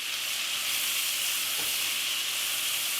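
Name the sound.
stirring frying cabbage and bacon in a pan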